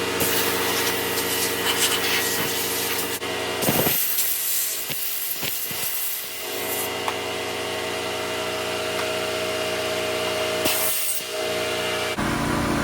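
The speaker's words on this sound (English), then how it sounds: "I'll just use the compressor and just blow out all the rust and everything" An air compressor nozzle blows rust and debris out of a car engine bay during restoration, a loud continuous hiss that runs almost unbroken for several seconds, with a few brief cutoffs and restarts.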